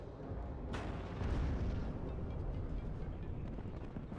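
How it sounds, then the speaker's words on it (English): Incoming artillery fire in the WARNO strategy game: a sharp distant blast followed by rolling, rumbling booms and a steady low roar, without talking. "Over here we're seeing artillery fire coming in from the"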